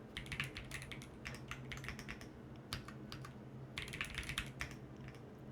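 Someone types on a computer keyboard in quick bursts of close, crisp key clicks with short pauses between words, over a faint steady background hum.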